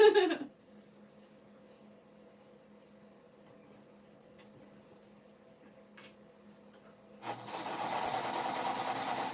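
An older Singer sewing machine starts up near the end, a steady mechanical whir following a long stretch of quiet room hum.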